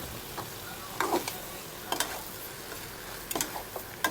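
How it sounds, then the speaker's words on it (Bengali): Meat sautéing with garlic and spices in a pan, a soft low sizzle under intermittent scrapes and taps of a spatula against the pan, close and fairly quiet, without talk. "এবার মাংসগুলো দিয়ে আমি কষিয়ে নেব, অনেকক্ষণ ধরে কষিয়ে নেব।"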